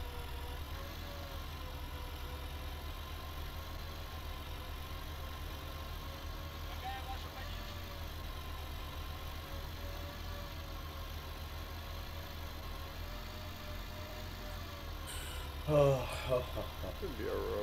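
A vehicle engine in Arma 3 runs at a steady idle-like drone for the whole stretch, even and continuous, with a brief bump of other noise near the end and no clear talking.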